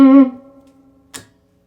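An electric guitar with a Les Paul tone strikes one chord of a riff in A, loud at first and then ringing out and fading, with a short bright scrape at the end.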